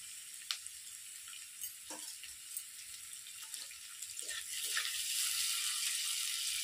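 Small paneer cubes fry in a pan of hot oil, giving a faint, steady sizzling hiss that grows slightly louder toward the end, with a few soft clicks.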